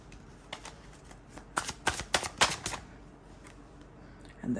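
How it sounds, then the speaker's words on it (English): Tarot cards being shuffled up close, a run of quick papery riffles and snaps clustered in the middle of the clip, with quieter rustles before and a soft thump at the end. "Let's look at the next 3 cards."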